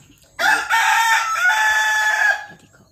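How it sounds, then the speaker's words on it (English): A cockerel crows once, a single loud, close cock-a-doodle-doo lasting about two seconds against a quiet background. "bloody cockerel."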